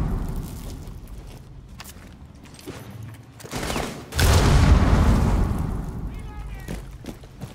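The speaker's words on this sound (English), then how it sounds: "Goddamn nade." A grenade goes off in Rainbow Six Siege with a sudden loud, heavy blast partway through, followed by a long rumbling roar. Scattered gunfire and game noise come before it, and voices talk around it.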